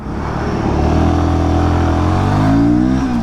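Royal Enfield Guerrilla 450 Apex motorcycle pulling away hard in first gear, its engine note rising steadily and loud at close range, alone without talk.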